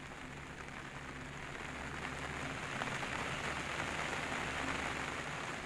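Heavy, continuous monsoon rain falls in coastal Karwar, a faint but unbroken hiss of drops on surfaces that holds steady throughout, with no one speaking.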